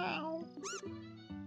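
A single short, high-pitched cat meow from The Legend of Heroes: Trails in the Sky, heard at Perzel Farm, rising and falling over steady game music with a voice nearby.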